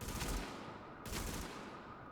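Two short bursts of gunfire from The Division shooter game, each a quick rattling volley a second apart, moderately loud over a low game background, with no talk.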